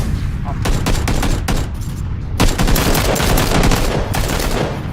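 Rapid, dense video-game gunfire fills the whole stretch, loud and close, with bursts of automatic fire overlapping under occasional game noise.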